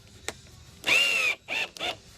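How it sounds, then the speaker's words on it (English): A power driver sinking a Plastek screw into plastic: a short click, then a high whining spin burst followed by two shorter bursts as the screw bites down, close and loud. "And you can hear the Plastek screw"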